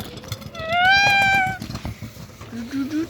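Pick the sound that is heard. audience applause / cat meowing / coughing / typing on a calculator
cat meowing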